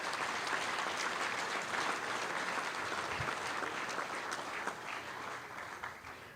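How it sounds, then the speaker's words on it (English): Sustained applause from a convention general session audience fills the hall, steady and dense throughout before tapering slightly near the end. "Let's give them a round of applause right now"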